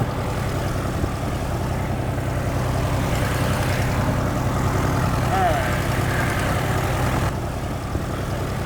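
A light aircraft engine idles at 1,000 RPM during a preflight run-up, producing a steady, continuous, droning rumble close by, with possible muffled voice underneath.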